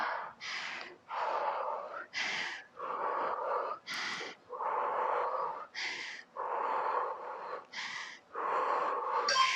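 Heavy, forceful breathing during an intense HIIT cardio workout, with a long series of hard exhales and gasps in an irregular rhythm. It is close and loud and carries no speech.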